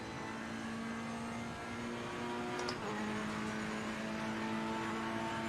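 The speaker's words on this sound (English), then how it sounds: "You've got plenty of transmission whine, and of course that big V8 lump in the back." A Ferrari's rear-mounted V8 in the Assetto Corsa Competizione racing game drones steadily at speed, with a high transmission whine running above the engine note and no talking.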